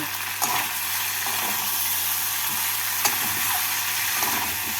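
Vegetables fried with sugar and green chillies being stirred in a pan for a prawn and drumstick curry, a steady close sizzle broken by a few scraping stirs, no voices.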